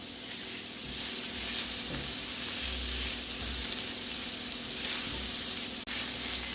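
Mixed vegetables sizzle together in a hot pan, a steady, close hiss of frying that carries evenly throughout with faint low rumbles beneath, and no voices.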